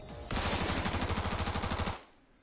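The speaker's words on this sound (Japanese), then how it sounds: "複数の銃声が響くと同時に目の前の怪物は黒い煙となって無惨した" A burst of rapid gunfire as a sound effect in a tabletop horror role-playing game session, a dense rattling volley of shots lasting under two seconds, loud and close, then cut off.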